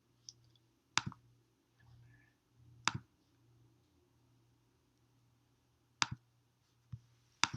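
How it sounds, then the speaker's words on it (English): A computer mouse clicks during spreadsheet work in Excel, giving a few crisp, close clicks spaced apart, some in quick pairs, over a quiet faint hum. "Then I'm going to double click the red."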